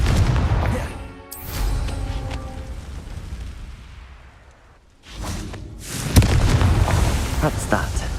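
Confringo blasting spell in Hogwarts Legacy: a booming fiery explosion with a whooshing burst and a long decaying rumble, then a second loud blast with crackling near the end, with a voice speaking around it.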